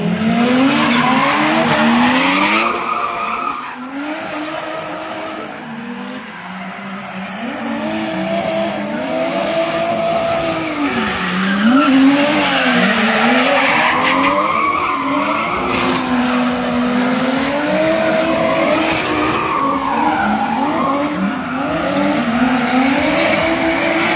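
Drift cars skid through an event in Cagayan, northern Philippines, tires squealing loudly with sweeping, wavering pitch as they slide, engines roaring underneath, continuous and close for the whole stretch.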